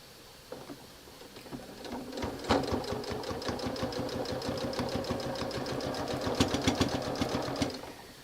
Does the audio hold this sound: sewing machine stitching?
yes